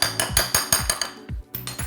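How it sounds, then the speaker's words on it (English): Whisk clinking and tapping rapidly against a bowl while baking soda is mixed into flour for maple pecan blondies, a close, busy series of sharp metallic knocks with a short pause near the end. "Give that a little bit of a mix all around."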